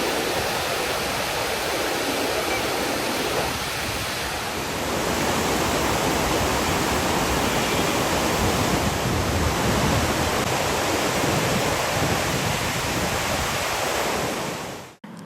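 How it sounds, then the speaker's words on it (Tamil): Water pours down small seasonal waterfalls in a continuous, loud rushing roar that stays dense and even throughout before cutting off abruptly at the end. "சிறு சிறு அருவிகள் தற்காலிகமாக தோன்றி நீர்வீழ்ச்சிகள் நகரமாகவே காட்சியளிக்கிறது"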